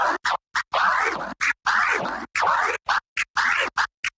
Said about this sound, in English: So now it's starting to sound like a scratch already